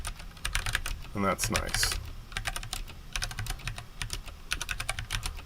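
Rapid typing on a computer keyboard during a Monkey Type exercise, dense bursts of close key clicks with brief pauses, while a person speaks briefly over it.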